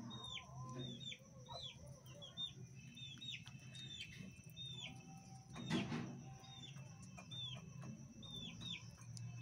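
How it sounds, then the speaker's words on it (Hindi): A hen with her chicks clucks softly while feeding on grain and scraps of roti, close by, with high chirps and a brief louder rustle in the middle. "मुर्गी खा रही है वो, देखो वो खा रही है अपने बच्चे को लेके उधर"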